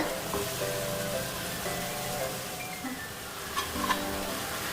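Bonda frying in oil over a medium flame, a steady soft sizzle with faint tonal hum in the background and a couple of light clinks near the end.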